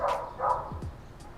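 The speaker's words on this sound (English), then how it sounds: "Definitely dogs in my background." Dogs bark faintly in the distance, a few soft short woofs under a steady room hiss in the countryside.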